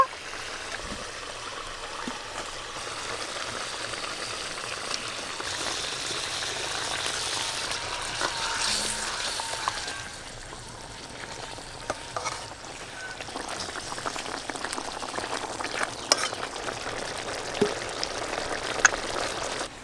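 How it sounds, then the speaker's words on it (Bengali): Curry broth bubbles and sizzles steadily in a pan as pieces of fried golden rohu fish are added, a continuous soft frying hiss with occasional light clinks. "ঝোল খুব ভালোভাবে ফুটে গেছে, ভেজে রাখা গোল্ডেন রুইগুলো দিয়ে দেব।"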